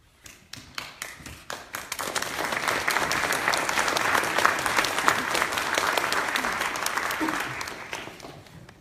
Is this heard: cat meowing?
no